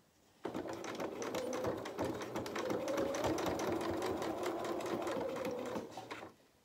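A sewing machine runs steadily for several seconds, its rapid needle clatter loud and close, starting and stopping abruptly.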